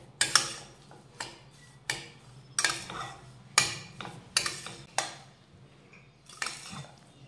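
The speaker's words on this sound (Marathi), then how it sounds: "आता ह्या तुपावर हा रवा मंद आचेवर सतत हलवत साधारण 4 ते 5 मिनिटं व्यवस्थित भाजून घेऊयात" Semolina roasted in ghee over low heat in a pan, stirred constantly for a mango sheera: repeated scraping and clinking strokes of a spoon against the pan, close and fairly quiet, in an irregular rhythm with no talking.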